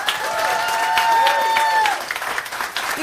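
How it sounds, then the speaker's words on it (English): Concert audience applauding a band at a live show: dense clapping and crowd noise throughout, with a voice speaking over it and a sustained whistle-like tone partway through. "Please give them another round of applause."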